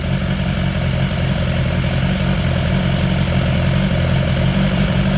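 A 2018 BMW S1000XR motorcycle engine idles steadily and loudly up close with a wavering RPM, a continuous low rumble with no talk.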